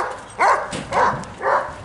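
A dog in a residential neighborhood barks three times in an evenly spaced series, loud and fairly close, with no talking.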